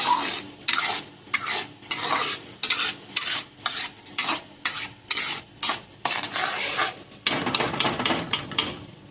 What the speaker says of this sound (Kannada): ಮಸಾಲೆ ಚೆನ್ನಾಗಿ ಎಣ್ಣೆ ಬಿಟ್ಕೊಳ್ಳಿ. ಎಣ್ಣೆ ಬಿಡುವಷ್ಟು ಫ್ರೈ ಮಾಡಬೇಕು.